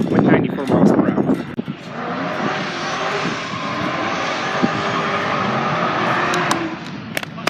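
Dodge Challenger cars drag racing at night at Rocky Mountain Speedway give off a loud, sustained engine roar that swells and holds, with voices talking briefly at the start.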